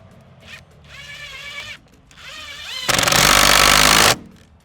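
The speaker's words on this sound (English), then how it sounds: "I'm going to put a couple screws in this just to hold it." Screws being driven into a replacement window frame with a power driver: two short whirring bursts with a rising, strained motor tone, then a louder, denser burst of drilling that stops abruptly.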